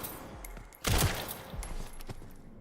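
Video game gunfire: one loud close burst of shots followed by scattered fainter pops and clatter, with no talking over it.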